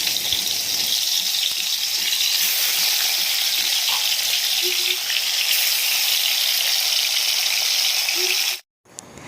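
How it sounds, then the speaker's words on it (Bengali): Hilsa fish fry in a pan with a dense, steady, close sizzle that holds for several seconds and then cuts out abruptly near the end. "এদিকে আমার মাছ ভাজা সবগুলো হয়ে গেছে"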